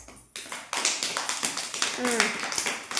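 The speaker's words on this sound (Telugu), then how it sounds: "క్లాప్స్." Children at an anganwadi hopping game clap in quick bursts, sharp repeated claps building in rhythm alongside nearby voices and tonal calls.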